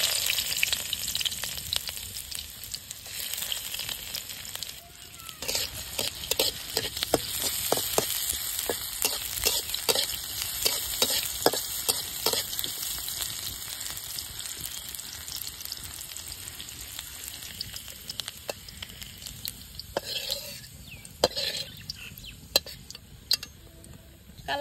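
Onions sizzle in hot oil in a pan over a high village cooking flame, a steady, dense frying crackle broken by sharp clicks and scrapes of stirring throughout, close and with no talking.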